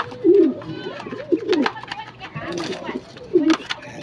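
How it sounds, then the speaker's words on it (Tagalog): Pigeons cooing close by in a large cage, several soft throaty coos in short bursts, with someone talking over and between them. "Sampu yan mga kalapatids."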